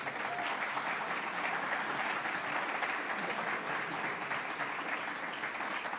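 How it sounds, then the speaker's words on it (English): A town hall audience at West Bloomfield High School applauds steadily for about six seconds. The clapping is dense and sustained at an even level, with no speech over it. "Let's give them a round of applause."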